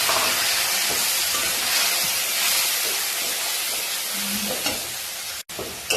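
Masala fries in hot oil alongside potatoes, a dense, continuous sizzling hiss with stirring scrapes and a brief low clunk near the end, close and loud without speech.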